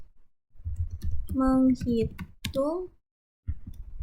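Keys clack on a computer keyboard while someone types in MATLAB, a few sharp presses standing out close by under a man's steady speech.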